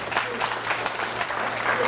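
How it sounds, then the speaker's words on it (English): A nice crowd at a talk in Sedona breaks into steady applause, dense clapping filling the room without a break. "give yourself a round of applause"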